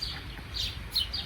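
Small birds chirp and tweet close by at a picnic table during a camping trip, a few quick high calls over a steady low outdoor rumble.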